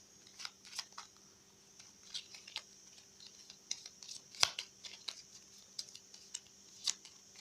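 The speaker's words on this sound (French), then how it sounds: "Et je mélange les 2 cartes, les 2 jeux, je mélange plusieurs fois" Two decks of playing cards shuffled together several times by hand, a quiet run of sharp, uneven clicks and riffles with one louder snap partway through.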